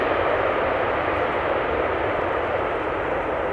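Airliner touching down at Amsterdam Schiphol with reversers at idle, a steady broad engine roar and rushing noise, loud and continuous with no pauses.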